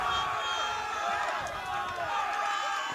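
Home crowd cheering steadily for the Elsik Rams at a boys high school soccer game against Hastings on senior night, a broad sustained roar of many voices throughout.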